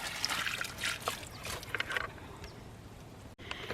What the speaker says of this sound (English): Then I'll just take my bucket and I'll go water my plants.